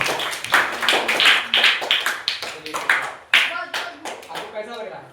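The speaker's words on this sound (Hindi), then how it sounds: "इस बच्ची के लिए जोर जोर ताली हो जाए।" A school audience claps for a Class 7 girl receiving a first-place award, a burst of brisk, fairly close applause that thins into scattered claps over a few seconds, with voices mixed in.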